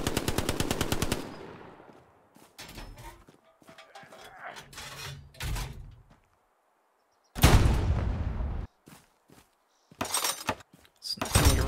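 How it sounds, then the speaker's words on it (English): Puma armored car firing its autocannon in the Hell Let Loose World War II shooter, heard as several loud, sharp bursts of rapid gunfire separated by short pauses, with scattered distant shots in between. "Sounds like a Puma shooting into the point."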